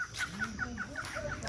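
Chicken clucking on a family farm, a quick run of about eight rhythmic clucks close by, over faint background noise.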